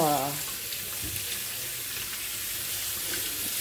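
Cold tap water runs steadily into a sink while a sea bream is rinsed, a continuous close hiss of flowing water with slight splashing variations, holding even from start to finish.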